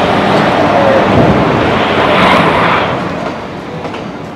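The 13113 Hazarduari Express pulls into Ranaghat station with a loud, close rumble and rolling wheel noise, clattering on, then easing slightly as it slows.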